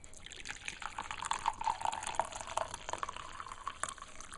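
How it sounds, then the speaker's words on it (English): Ginger infusion is poured into a cup, a faint trickling stream with small dripping splashes that rises slightly in pitch as the cup fills. "once the ginger has had time to infuse, I'll pour it into a cup."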